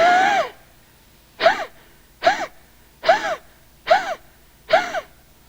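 Six forceful breaths from a deep breathing exercise, a long first exhalation followed by five short, sharp, evenly spaced exhales about one per second, close and fairly loud with quiet pauses between them.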